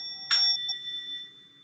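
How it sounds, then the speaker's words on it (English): A singing bowl is struck once, giving a bright metallic ding followed by a clear, sustained ring with several pure overtones that slowly fade, heard alone and fairly quiet. "Singing bowl rather."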